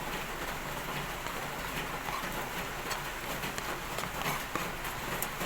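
Steady light rain patters continuously in the background, a soft, even hiss with small scattered drips throughout.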